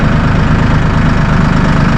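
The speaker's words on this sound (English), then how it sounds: "Listen how quiet that thing purrs" A Massey Ferguson 1840E compact tractor with a 39.4 hp engine idles close by, a steady low, even rumble with a regular pulsing throb and no voices.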